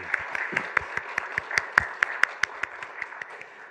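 Church congregation breaking into applause, rhythmic unison clapping in a steady beat of sharp, evenly spaced claps that swell slightly in the middle, close and clear.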